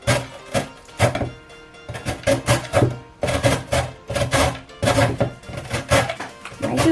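Carrots grated by hand, a rough rasping scrape repeated in rapid bursts of strokes with short pauses between, close and fairly loud, with no talking.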